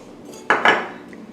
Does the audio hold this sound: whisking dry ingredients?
yes